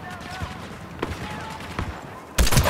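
A grenade detonates in Star Wars Battlefront II, a sudden loud broadband blast near the end that follows a stretch of scattered gunfire and speech-like battle chatter.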